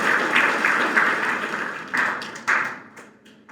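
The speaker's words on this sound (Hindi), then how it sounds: "इनके लिए हम एक जोरदार ताली बजा सकते हैं" Audience applause at a Gita seminar in Bhilwara, a dense burst of clapping that swells and fades in waves, with a couple of renewed surges before trailing off.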